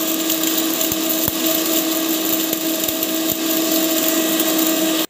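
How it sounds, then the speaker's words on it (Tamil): A kitchen mixer grinder grinds ingredients with a loud, steady whirring drone for about five seconds, then cuts off abruptly. "மிக்சியில் போட்டுட்டு நம்ம வந்து அரைச்சிக்கலாம்"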